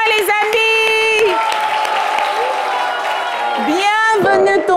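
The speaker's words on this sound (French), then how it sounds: "On pousse des cris de joie, les amis." A seated storytelling audience lets out cries of joy and cheers to greet tonton Yabongo, a noisy burst of crowd whooping and clapping between stretches of a loud voice addressing them.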